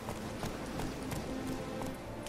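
Horse hoofbeats in The Witcher 3: Wild Hunt, a quiet, steady clip-clop rhythm of a trotting horse, faint and evenly paced over a low background.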